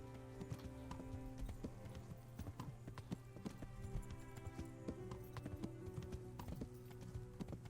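A tired horse in the medieval video game Kingdom Come Deliverance trots along a road, its hooves clip-clopping in a steady, even rhythm over a low continuous ambient hum.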